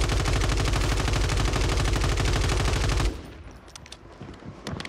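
A rapid, evenly paced automatic burst rips out in Call of Duty Warzone on Rebirth Island, close and loud for about three seconds, then cuts off to quieter scattered game sounds with a faint voice.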